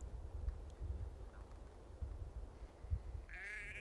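A sheep bleats faintly in the distance over low rumbling wind noise, and a brief wavering call rises near the end.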